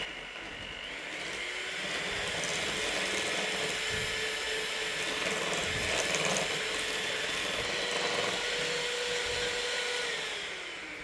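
A kitchen blender whirs steadily, mixing flour and almond extract for a traditional Derbyshire Bakewell tart, with a dense, loud motor drone that starts up, holds for about ten seconds and then winds down.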